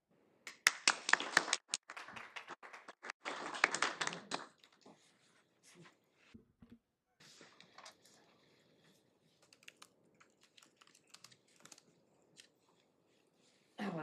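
An audience at a tech conference session in a meeting room breaks into a short burst of applause after a talk, a brisk patter of claps that fades into scattered taps and quiet room noise.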